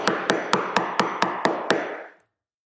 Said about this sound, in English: he heard loud drumming on his door